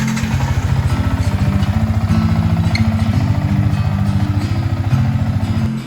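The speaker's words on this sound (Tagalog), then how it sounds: "pandarin natin ang motor up to 5 minutes para mag-circulate ang oil sa makina" A motorcycle engine idles steadily after an oil change with Shell Advance Ultra fully synthetic oil, its close, even low putter and light mechanical clatter holding without a break and with no talk.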